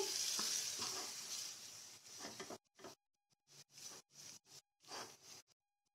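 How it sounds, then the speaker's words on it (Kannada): Grated carrot frying in a pan for carrot halva made without milk or ghee. A steady close sizzle fades over the first few seconds, then gives way to short, separate bursts of hiss. "ಹಾಗೆ ಫ್ರೈ ಮಾಡ್ಕೊಳ್ತಾ ಇದ್ದೀನಿ ಒಂದು ಐದು ನಿಮಿಷ ಹಾಗೆ ಫ್ರೈ ಮಾಡ್ಕೊಳ್ಳೋಣ"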